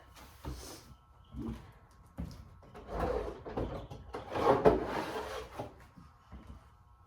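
A kitchen dresser drawer in a home kitchen is pulled open and pushed shut several times, giving a series of close, moderately loud wooden slides and thumps with brief pauses between them.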